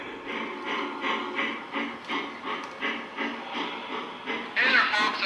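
A Lionel model steam locomotive with a fan-driven smoke unit chuffs in a steady rhythmic puffing with a soft hiss, rising into a louder burst of steam at the end.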